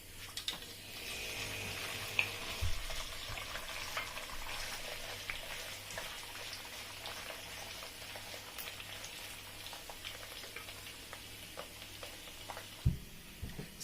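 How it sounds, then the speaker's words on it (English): Chopped gizzard halves fry in a pan with a steady, soft sizzle and crackle, a few faint clinks and stirring knocks breaking through near the end. "So now I'm going to fry."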